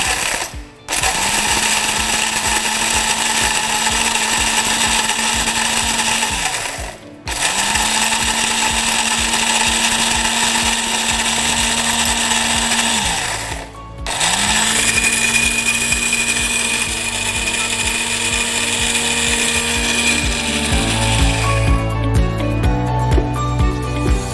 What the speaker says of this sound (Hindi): ग्राइंडर में डालने के बाद इसको हम ग्राइंड करेंगे।